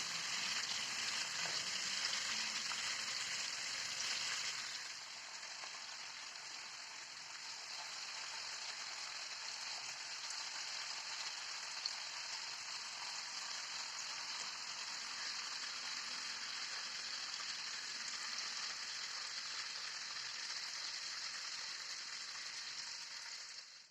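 A cheburek-style filled roll fries in oil in a pan, giving a steady, close hiss and crackle that drops slightly in level partway through and then carries on evenly, with no voices.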